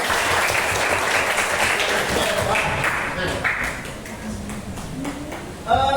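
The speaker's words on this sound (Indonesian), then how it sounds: "Tepuk tangan buat kalian." A primary school class applauds itself, a thick round of clapping from many children that thins out near the end, with young voices talking over it and a sharp tap at the close.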